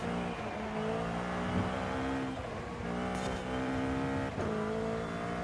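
A race car engine in Forza Horizon 5 climbs a hill with a steady, buzzing roar, rising in pitch through close-ratio gear changes with brief dips between shifts, loud and continuous.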